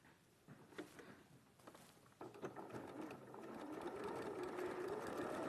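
A domestic sewing machine stitches a seam close to the fabric edge, its rapid mechanical whirr building from a few short bursts into a steadier, louder run toward the end.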